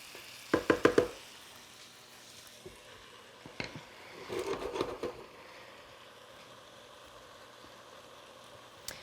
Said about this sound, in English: I just want to stir it up and make sure that every one of those pieces gets good and cooked.